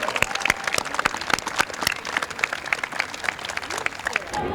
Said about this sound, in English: let's have one more round of applause for our national spokespeople and everyone involved in this wonderful event today.